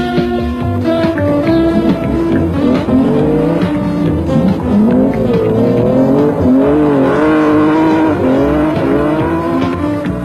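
A Nissan Skyline race car's engine howls loudly and continuously, its pitch sweeping up and down through gear changes, while tires squeal faintly during hard driving on the circuit.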